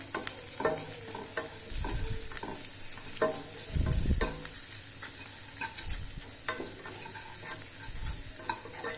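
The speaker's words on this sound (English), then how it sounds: "And of course, just keep on stirring it." Tomato soup being stirred in a pan, a spoon scraping and knocking through the thick mixture in repeated strokes over a steady low sizzle, close and fairly loud with no talking.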